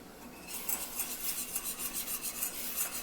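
Warm milk is whisked into souffle batter in a pot on the stove, giving a close, rhythmic scraping and rasping of a metal utensil against the pan in quick repeated strokes.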